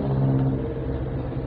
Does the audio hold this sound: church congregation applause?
no